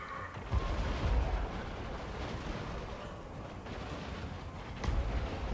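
Hell cannons in a Warhammer-style strategy battle game fire in a dense, continuous rumble of distant artillery, with heavier booms near the start and end over a constant roar of battle.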